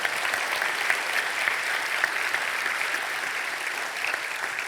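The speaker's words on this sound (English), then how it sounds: "But before Laura, can we just give her one big round of applause, because that was amazing" Conference attendees give a speaker a big round of applause after a talk on medical ethics, a steady, full wash of many hands clapping that holds evenly for nearly five seconds.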